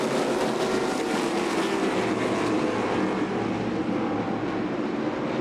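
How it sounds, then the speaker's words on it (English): ARCA West stock cars roar around an oval track at Kevin Harvick's Kern Raceway, a steady distant drone of racing engines blending into one continuous hum without pauses. "He's going to pull ahead and dive down in front to cut Huddleston's charge off through 3 and 4"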